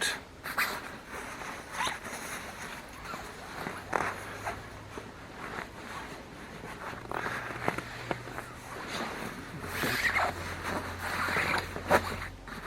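Heavy puffer coat being rolled up and pushed back into its bag, a continuous close rustle and swish of synthetic fabric with bursts of crinkling and rubbing, fairly loud and with no talking.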